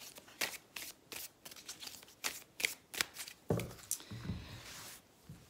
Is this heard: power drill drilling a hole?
no